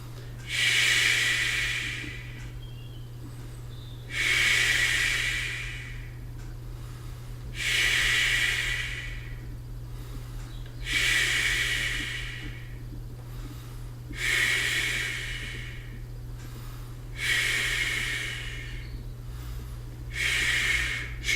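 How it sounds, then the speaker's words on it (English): Hissing 'shh' out-breaths forced through gently clenched teeth during a Chi Kung exercise, about six steady breaths evenly spaced roughly every three seconds, close and fairly loud over a constant low hum. "the out breath is a shh, teeth gently clenched together"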